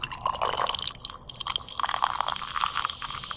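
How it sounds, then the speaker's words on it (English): Violet grape-flavoured Mountain Dew soda from Japan poured from a bottle into a glass, a steady close splashing and fizzing stream with bubbly gurgles, no talk. "Let's go ahead and pour it out and see what color we get."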